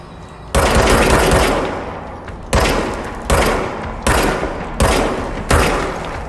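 Loud gunfire from the service weapon in the video game Control, with a long sustained burst followed by four shorter bursts in a steady rhythm, each firing hard and close with no talk over it.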